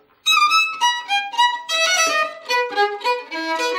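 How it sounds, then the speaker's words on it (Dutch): Solo violin plays the lively Preludio from Bach's Partita No. 3, a bright, rapid run of bowed notes with quick shifts in pitch, close and clear and unaccompanied. "Derde partita, het eerste deel preludio, is echt zo'n vrolijk vinnig deeltje"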